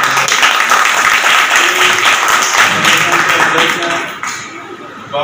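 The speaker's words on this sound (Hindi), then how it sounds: "एक बार जोरदार ताली बजाए।" An audience at a political gathering in Jagdalpur claps loudly and steadily in a dense, close round of applause that thins out near the end.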